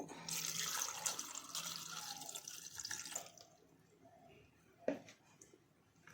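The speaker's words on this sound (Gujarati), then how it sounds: "હવે તેમાં પાણી રેડીશું થોડું" Water poured into a pressure cooker holding washed drumsticks (moringa pods), a steady close splashing pour for about three seconds, then quieter kitchen sounds with a brief knock.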